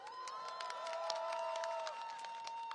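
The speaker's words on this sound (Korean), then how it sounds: "박수 한번 보내주세요." A crowd at a rally applauds, with scattered claps mixed with a sustained high whistle-like tone, moderately loud and continuous.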